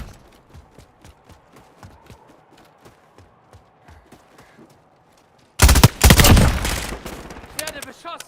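Video game gunfire: a steady series of faint, evenly spaced single shots, then a sudden loud burst of rapid automatic fire and explosions up close.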